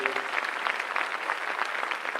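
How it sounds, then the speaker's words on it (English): A crowd at a city's State of the City address applauds steadily, a dense, even wash of many hands clapping throughout with no pause. "Y'all can clap for that."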